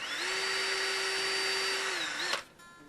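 Power drill boring a hole through a metal fishing spoon for a sea-fishing rig, a close, steady high whine for about two seconds that winds down sharply and stops, no talking.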